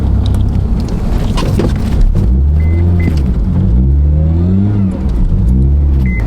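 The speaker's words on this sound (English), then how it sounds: "Honda Civic drifting around a roundabout." A Honda Civic's engine drones loud and close as it drifts around a snowy roundabout, its revs rising and falling in waves over a steady rumble with no talk.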